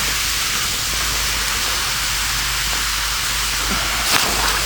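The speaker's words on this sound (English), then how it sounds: "Rock number 4, already starting to get a boil." Steady broadband hiss and rumble of water boiling in a primitive bushcraft setup as a hot rock is dropped in, continuous and fairly loud, with a brief bubbling swell near the end.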